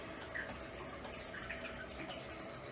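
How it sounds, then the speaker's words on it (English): Water running through a Kangen SD501 water ionizer after an internal leak repair, a faint steady hiss and trickle heard alone. "turn on the water, there we go, check the leaks"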